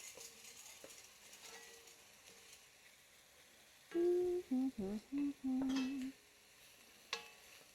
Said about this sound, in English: Cook stirring until the ingredients are fragrant and beginning to soften, almost 2 minutes.